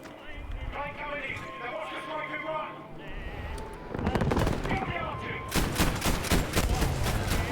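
Rapid anti-aircraft gunfire in a video game, dense repeated bursts that grow louder and busier in the second half, heard alongside game music and under a talking voice.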